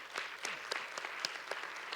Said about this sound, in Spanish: Entonces, aplaudamos.